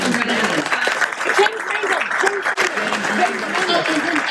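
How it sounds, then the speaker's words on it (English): Applause from an audience at a hall of fame induction ceremony, a moderate clapping wash that stays under a voice talking over it. "We'll clap for you right quick."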